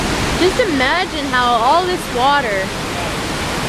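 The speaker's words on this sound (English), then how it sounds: "this river keeps flowing like this every single day" The Wenatchee River rushes as a steady broadband roar, loud and close, with a person speaking over it.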